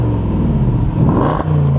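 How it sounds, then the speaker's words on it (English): The V8 engine of a 2022 Land Rover Range Rover Sport HSE Dynamic is revved close up, its loud rumble climbing in pitch and then settling back toward idle. "I'm just going to rev the engine a little bit so you can hear some of that beautiful V8 music."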